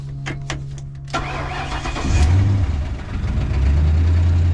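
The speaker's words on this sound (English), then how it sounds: "And let's see if she'll start." A Ford F100 pickup with a swapped Crown Vic engine cranks briefly, then catches and fires up loudly, settling into a rough, rumbling idle with slight rev fluctuations, close to the microphone.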